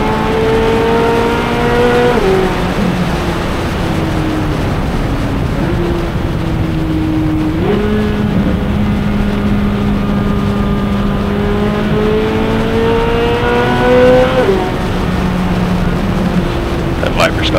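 Race cars lapping Road Atlanta raceway, a Dodge Viper among them, with loud engine drones that rise and fall through gear changes as cars pass close by, one after another, with people talking now and then.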